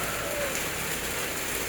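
Heavy rain pours down steadily in a dense, even hiss of drops striking surfaces, loud and close, with no pauses and no voices.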